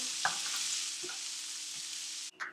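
Mushrooms, onions and garlic cooking in a little oil on high heat, a steady close sizzle with a few soft stirring knocks, cutting off abruptly near the end.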